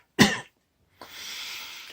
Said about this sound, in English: Phlegmy coughs shook the air of the bookshop